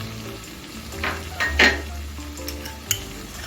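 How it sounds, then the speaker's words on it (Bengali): Garlic, ginger and green chili paste fry in a pan for a taro rezala, giving a low steady sizzle broken by a few stirring scrapes and a sharp clink near the end. "কাঁচা লঙ্কা পেস্ট দিয়ে ভালো করে আরেকবার একটু কষিয়ে নিচ্ছি যতক্ষণ না আদা রসুনের কাঁচা গন্ধটা কেটে যাচ্ছে"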